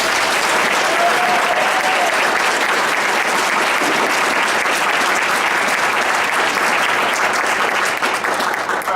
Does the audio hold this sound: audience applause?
yes